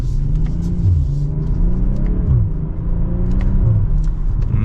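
A 2024 BMW M340i xDrive engine revs and accelerates with a deep, steady rumble, heard from inside the cabin, rising through gears with brief dips as it shifts.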